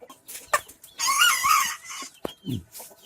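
Fancy hens on a poultry farm cluck and squawk up close in a few loud bursts, with one longer drawn-out call in the middle.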